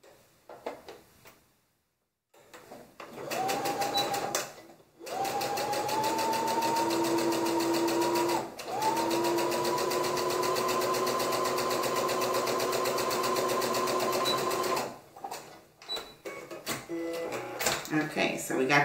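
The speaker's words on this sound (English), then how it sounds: "we're going to go ahead and sew the 1/4 inch, which will be the casing for the elastic" A sewing machine stitches a quarter-inch casing for elastic in long, loud continuous runs with brief pauses between them, and a person talks before and after the sewing.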